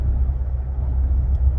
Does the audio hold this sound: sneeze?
no